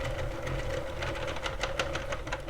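A Sentro or Addi circular knitting machine cranked along a row of yarn gives off a steady, busy mechanical whir and clatter of rapid ticking needles, close and continuous.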